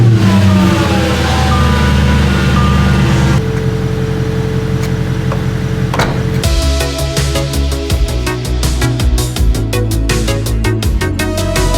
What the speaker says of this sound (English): now we're just going to turn the car on once again